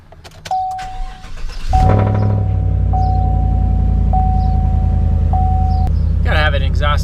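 A Nissan Skyline R engine cold-starts with a cranking whir, then catches into a loud, steady exhaust idle that holds to the end, with a repeating chime over it and brief talk at the close.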